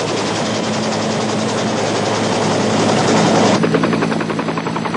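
Military helicopter over the sea during marine diving infiltration training, its loud rotor chop and turbine drone continuous and close, with the blade rhythm sharpening near the end.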